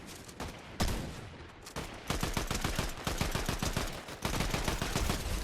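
Rapid bursts of automatic gunfire ring out in a Fortnite Zero Build match, coming in dense repeated volleys with brief pauses between them and fairly steady loudness.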